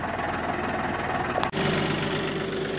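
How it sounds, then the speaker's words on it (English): A skid steer engine runs steadily on a hay field, a loud continuous mechanical drone with a brief dip and clunk midway before the rumble resumes. "I'm gonna bring the skid steer over here and just finish tidying this up a little bit better."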